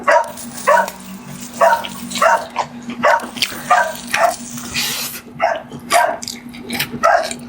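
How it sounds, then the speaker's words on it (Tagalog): Several male dogs bark in repeated sharp bursts, fairly close and loud, with a steady hum running underneath and no talk. "kaya maingay yung mga lalaking aso"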